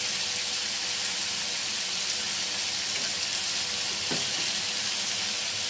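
Stuffed eggplant for gutti vankaya curry frying in a pan, a steady broadband sizzle of hot oil running throughout with no speech, a brief soft clatter near the end as the pieces are turned.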